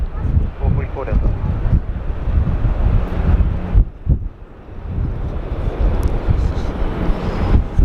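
Strong wind at Sydney Airport buffets the microphone in loud, continuous rushing gusts with a low rumble underneath, easing briefly before surging again.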